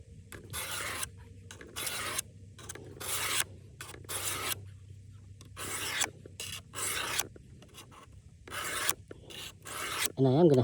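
A Case camp knife blade is drawn back across 600 grit abrasive like a strop, giving bursts of close, dry rasping strokes separated by brief pauses, with a faint low hum underneath.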